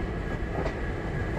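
A train runs through thick green forest on winding curves near Dudhsagar, making a continuous rumbling roll of wheels and carriages that stays steady and fairly near without clear horn blasts, with no talking.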